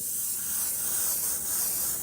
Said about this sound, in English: sometimes you hear the air going, it's just air with no paint